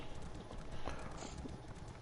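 Hooves of a horse clip-clopping in the video game Elder Scrolls Online, a brief, fairly quiet run of steady hoofbeats with no talk over it.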